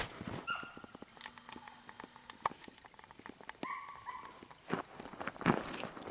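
Hunting dogs chasing a hare outdoors in December, heard as scattered footsteps, brush rustle and occasional short yelps and whimpers at moderate distance, with brief faint voices and whistle-like calls between.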